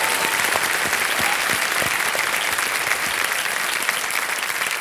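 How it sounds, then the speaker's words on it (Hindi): Studio audience applause welcoming a contestant on the quiz show Kaun Banega Crorepati, a steady, dense wash of clapping from many hands, loud and continuous throughout with no talk. "अंजलि जी, एक बार फिर आपका तालियों के साथ इनका हम आज स्वागत है।"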